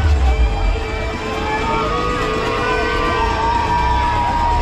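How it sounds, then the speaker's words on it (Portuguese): Spectators at the Rio marathon cheer and shout along the route, a broad crowd roar with whoops and scattered voices, fairly loud and steady. "Muita gente na torcida também, ó."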